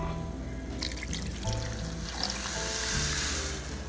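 Water pours steadily into a pot of pork adobo already holding meat, soy sauce and vinegar, a continuous close splashing trickle lasting several seconds.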